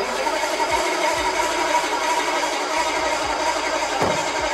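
A car engine with the choke pulled cranks over under the starter, a steady fast whirring with repeated low chugging pulses beneath a constant broadband hum, fairly close and moderately loud, with no talk.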